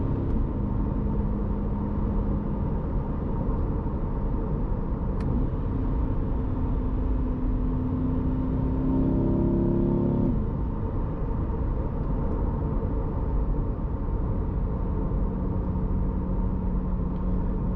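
A C8 Corvette drives a mountain road on Mount Charleston, its engine a constant low rumble inside the cabin with a brief rising rev near the middle.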